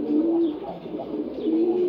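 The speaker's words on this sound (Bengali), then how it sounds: "এটা হচ্ছে সিলভার গোরা কবুতর।" A pair of silver gola pigeons, home-bred and now adult, coos softly up close, two drawn-out low murmurs with a quiet breathy pause between and no talk.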